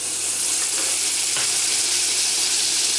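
Butter is stirred into hot caramel, producing a loud, steady hissing sizzle that holds for the whole stretch with no talk.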